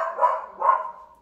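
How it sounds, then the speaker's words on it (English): A pet dog indoors gives two short barks, fairly close and moderately loud, with no talking over them. "Don't mind my dog."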